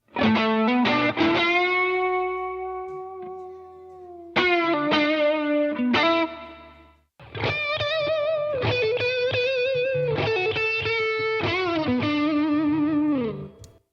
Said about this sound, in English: Daniel has a strat, Mike has a strat, and different pedal chains as well.